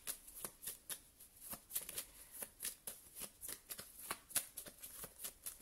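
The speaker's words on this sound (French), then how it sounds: "je vais tirer les cartes" Tarot cards being shuffled for a love reading, giving a steady run of crisp, close riffling snaps and flicks repeating in quick irregular bursts, heard alone without any talk.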